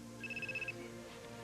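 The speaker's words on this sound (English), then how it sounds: "You can either, like, turn that phone off or it's going out the window." A telephone rings once in a short electronic trill, moderately loud over a steady background hum, with no one speaking.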